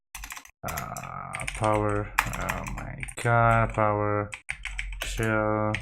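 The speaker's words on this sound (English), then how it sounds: "So let me type this out." Someone types on a computer keyboard in quick clusters of close clicks and taps, under someone talking almost throughout.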